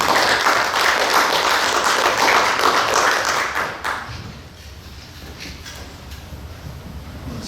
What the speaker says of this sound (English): Would you guys give a round of applause to our first guest